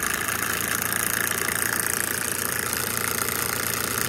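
A brushless Newman motor driven at full speed on 12 volts with a capacitor gives a steady, loud, continuous whirring hum with fine rapid texture, unbroken for the whole stretch and with no voices.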